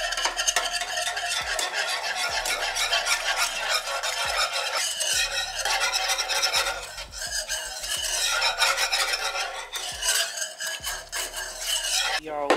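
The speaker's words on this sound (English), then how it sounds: "we're just gonna use this whisk and try to get this sauce as smooth and as creamy as we possibly can" A whisk beating cream cheese sauce in a pot, making continuous rapid rhythmic scraping and clicking against the metal, close and loud, with a brief pause in the middle.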